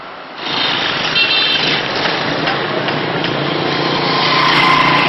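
A motorcycle taxi engine in a gold-mining town runs in a steady, loud drone after a short quieter start, holding close and continuous for about five seconds with no talk.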